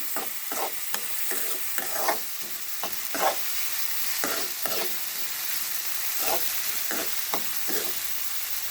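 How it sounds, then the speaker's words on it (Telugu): Onions and green chillies sizzle steadily in hot oil for a tempering, with repeated scrapes and clacks of a spatula stirring the pan, close and continuous with no talk. "తాలింపులో ఈ ఉల్లిపాయలు అలాగే పచ్చిమిరపకాయలు వేసి ఆపాలి"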